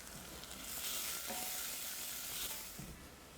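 Chopped onion sizzles steadily in a hot pot, a continuous close frying hiss with slight swells and a few soft stirring clicks, heard alone without talk.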